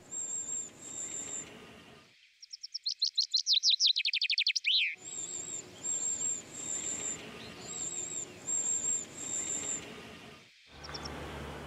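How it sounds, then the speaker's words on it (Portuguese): A wren, Europe's third smallest bird, feeding its chicks: repeated high, thin chirps recur steadily, with a rapid burst of trilled song in the middle and a soft rustling background throughout. "A carriça, a terceira ave mais pequena da Europa, tem crias para cuidar."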